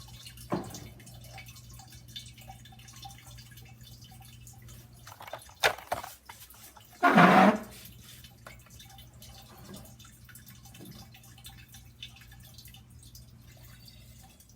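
Liquid containing platinum group metals recovered from catalytic converters is poured into a beaker, a short splashing pour amid scattered drips and clinks over a steady low background hum.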